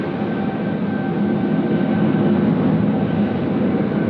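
A jet aircraft on short final to runway 25 at Sydney Airport in high wind, heard as a steady, loud, continuous roar with a faint tonal whine, unbroken for the whole stretch with no voices.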